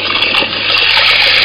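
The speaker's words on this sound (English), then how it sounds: "So that's my tap there. So it's, I can just turn it on" A tap runs steadily and loudly, gushing cold water to fill an esky used as a cooling bucket for the condensers of a copper reflux column still, with no talk.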